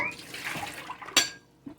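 A bowl of water is emptied out in a home kitchen while beef stew is being prepared. A short, sharp splash sounds close by, with light clatter before and after it.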